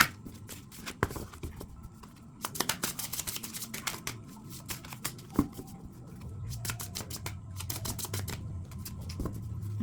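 Tarot cards are shuffled up close in a quiet room, giving a run of soft, rapid riffling and flicking sounds.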